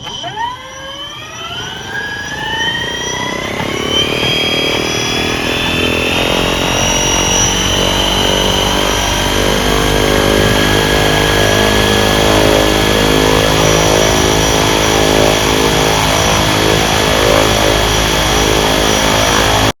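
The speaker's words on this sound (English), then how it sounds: "we've still got the propeller noise, and that's still transmitting itself through into the cockpit as well" Steady, loud propeller drone from the E-KUB electric aeroplane as heard inside the cockpit, a continuous tonal hum with a rising whine that settles into a constant pitch, with no voices.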